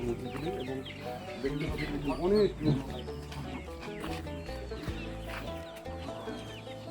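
Chickens on a hillside organic farm in Nepal cluck and murmur nearby while someone talks over them, with one louder clucking call rising briefly in the middle.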